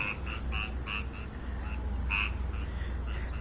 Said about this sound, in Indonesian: Suara kodok tuh.